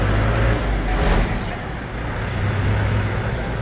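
School buses from DPS Durgapur roll past on a quiet road, and the low engine rumble of heavy vehicles holds steady and close for the whole stretch, with no voices.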